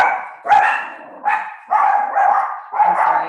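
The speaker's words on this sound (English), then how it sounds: "my puppies are barking" Puppies bark in loud, close bursts, about five yips and barks spread over a few seconds in an indoor room, with short gaps of near silence between them.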